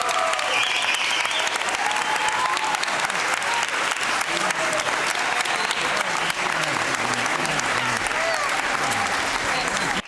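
Sustained applause from an audience for a group at a Piccolo Rifugio Vittorio Veneto gathering, dense and steady clapping filling the whole stretch with a faint murmur of voices underneath.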